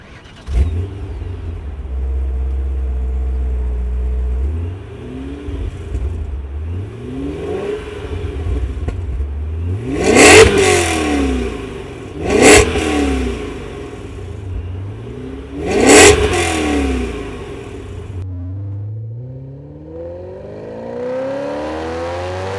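A Dinan S3 supercharged E39 BMW M5 engine revs hard through the gears on the Autobahn, rising in pitch several times with sharp shifts between pulls. The roar stays close and loud, unbroken by speech.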